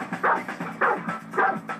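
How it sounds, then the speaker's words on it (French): A golden retriever barks three times in a steady rhythm, fairly close, with short yips between the louder barks, wanting a tennis ball. "Maintenant, il va aboyer."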